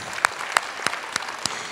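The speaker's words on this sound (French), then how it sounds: "je vais vous demander d'applaudir." Crisp single claps in a steady rhythm of roughly three per second sound over a light hiss from an audience at a French mudra finger-yoga session, with no voices and no building crowd roar.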